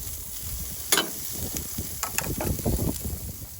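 Sucuk, a Turkish sausage, sizzling in a frying pan up close, a crackling hiss with a few sharp pops and stirring scrapes.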